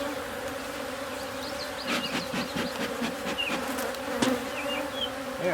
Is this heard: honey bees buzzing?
yes